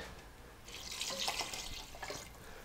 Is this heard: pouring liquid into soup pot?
yes